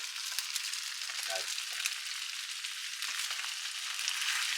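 Pre-cooked ingredients for ready-made Singapore noodles frying in a pan, a steady bright sizzle and crackle throughout, with brief stirring scrapes and no talk over it.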